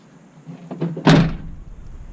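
A car door swings shut and latches with one solid, close thunk after its striker bushings were replaced, followed by a short fading rattle-free decay.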